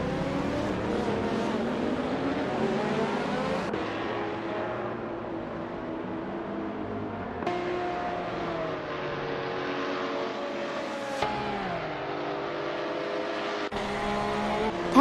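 Race cars lapping Spa-Francorchamps in a racing video game, engines droning steadily with pitch sweeps as cars shift and pass, a continuous loud roar with several abrupt cuts between cars.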